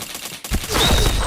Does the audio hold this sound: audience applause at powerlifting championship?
no